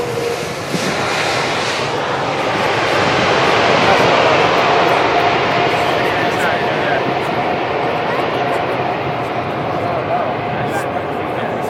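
Airbus A380 jet landing on the runway at Farnborough in 2010, a broad, loud sustained engine roar that swells and holds steady for the whole stretch, with people talking nearby over it.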